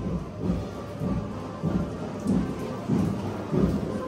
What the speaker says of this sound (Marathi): बाबा पाऊस पण पडते वाटतं.